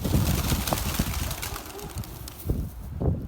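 Pigeons coo close by in low, throaty murmurs, mixed with scuffling, wing movement and nearby noise in a busy, cluttered setting.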